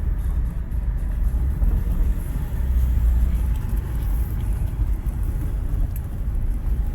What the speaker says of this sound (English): You hear the turbo spool a little bit more, which is nice.